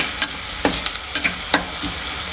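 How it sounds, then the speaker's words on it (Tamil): Onions frying in oil for cuttlefish curry, a loud close crackling sizzle broken by occasional scraping stirs of a spoon in the pan, with no voice. "இப்போ வெங்காயம் நல்லா பொரிஞ்சு வந்துட்டு பாருங்க, வெங்காயம் பொரிஞ்சு வந்துட்டு"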